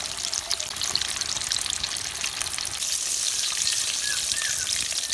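Pieces of oats frying in hot oil give a steady, dense crackling sizzle that runs evenly and close throughout, with a few faint higher pops and scrapes near the end and no talking.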